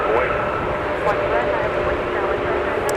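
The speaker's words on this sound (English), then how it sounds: "the A330neo, looking for a spot on the de-icing pad" An Airbus A330neo airliner taxis at Minneapolis–St. Paul Airport toward the de-icing pad during a winter storm, a steady engine whine and rumble, with a voice talking over it.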